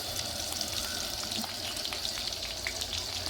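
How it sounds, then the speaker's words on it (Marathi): Onions and green chilies frying in a pan for a Vidarbha-style cabbage and moong dal dish, a steady close hiss and crackle with faint stirring scrapes throughout. "कांदा, मिरची हे सगळं काही टाकलेलं आहे. आणि याला आता हळूहळू फिरवायचं"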